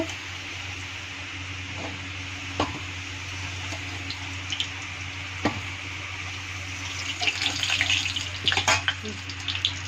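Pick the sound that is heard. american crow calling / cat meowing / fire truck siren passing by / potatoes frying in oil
potatoes frying in oil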